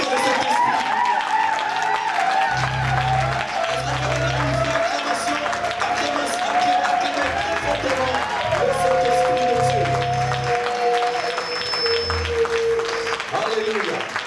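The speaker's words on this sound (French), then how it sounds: "alors acclamez très fortement le Saint-Esprit" A church congregation cheers and applauds loudly and steadily, a dense sustained roar of clapping and voices with a sung or shouted line running over it.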